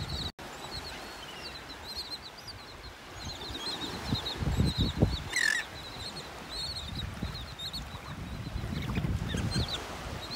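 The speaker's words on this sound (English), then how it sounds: "These are royal terns right here in front of us. Royal terns. The ones that are making all the noise." Royal terns calling on a North Naples, Florida beach: repeated harsh, raspy calls from a flock, some near and some farther off, over steady surf and breeze noise.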